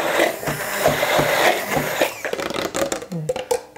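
A blender grinding boiled potato for baby puree whirs loudly and steadily, then sputters into short uneven bursts as the motor cuts in and out.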